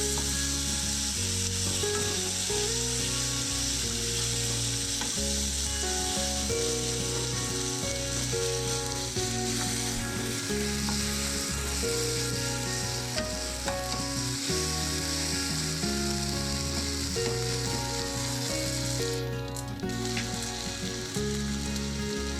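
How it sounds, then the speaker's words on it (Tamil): Ground tomato and onion sautéing in a pan give off a continuous close sizzle and frying hiss, with a repeating mechanical clicking running underneath the whole time and no speech. "தக்காளி வெங்காயம் எல்லாம் வதங்கட்டும்"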